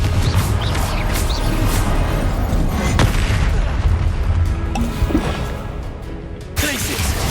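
Confringo fire spell explosions in Hogwarts Legacy combat: repeated booming blasts and bursts layered over dense, continuous game sound, loud and close throughout.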